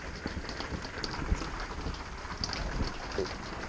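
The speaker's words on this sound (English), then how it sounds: "It's pouring rain this morning." Steady pouring rain on a morning at a campsite, a soft broadband hiss with scattered faint taps and drips, continuous and fairly quiet in the background with no talking.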